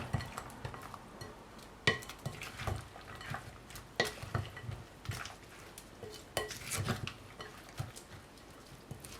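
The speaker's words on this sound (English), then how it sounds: "Just going to mix this together" Broccoli salad being tossed with dressing in a bowl, giving soft wet stirring and scraping with occasional sharper clinks of a utensil against the bowl, close and fairly quiet, with no talking.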